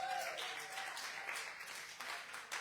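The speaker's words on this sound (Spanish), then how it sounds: "Den el aplauso al Rey de Reyes" A church congregation gives brief applause during a sermon, faint and somewhat distant clapping with a soft wash of crowd noise.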